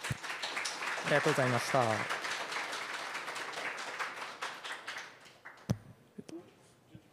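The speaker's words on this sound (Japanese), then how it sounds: "もう一度ですね、大きな拍手をお願いいたします。" An audience applauds at the end of a PyCon JP 2022 talk, a steady wash of clapping running under a speaker's thanks and fading out, with a few scattered claps near the end.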